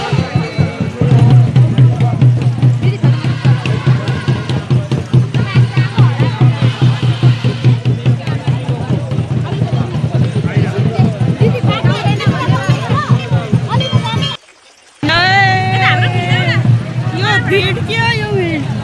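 A dense crowd murmurs and chatters at the historic Nisan fair, a steady loud babble of many voices close around, with a brief drop near the end before the hubbub returns.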